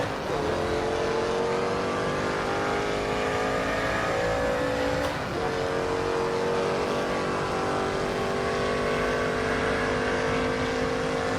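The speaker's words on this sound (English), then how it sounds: "There's a Daytona. Enjoy the noise." A 1960s-class Daytona race car engine at Kyalami circuit, a loud sustained high-revving wail with one brief gear change midway, steady and close throughout.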